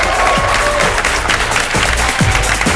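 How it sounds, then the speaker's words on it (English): Loud, dense audience applause with scattered cheers at a live game show at PAX 2012, sustained and close, filling the whole moment without pause. "Let's give him a round of applause."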